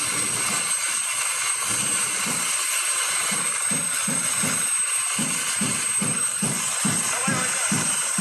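Continuous rotor whir with a rhythmic low thumping, fairly loud and steady, as people talk over it.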